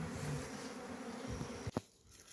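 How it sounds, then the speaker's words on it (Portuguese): Honey bees buzzing steadily at close range during a bee rescue, a continuous droning hum with a couple of brief knocks near the end. "Mostra a abelha de perto, pessoal."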